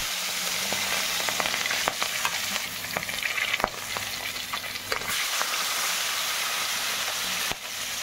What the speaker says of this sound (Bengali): মাছটা এবার ভেজে নেবো একটা একটা করে।